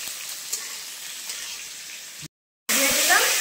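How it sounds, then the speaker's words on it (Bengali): Potato pieces drop onto onions already frying in a pan for a bottle gourd and fish curry: a steady soft sizzle breaks off briefly, then returns as a louder, brighter crackle. "আমি পেঁয়াজের উপরে কয়েকটুকরো আলু দিয়ে দিলাম।"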